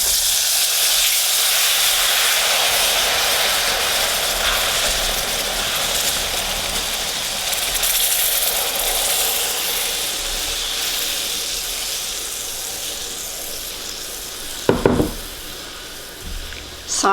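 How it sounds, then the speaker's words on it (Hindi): Sugar syrup hits hot golden-brown roasted semolina for halwa and sets off a sustained sizzling hiss that runs steadily, ending in a brief louder burst of spluttering near the end. "अब हम इसमें सिरप ऐड करेंगे"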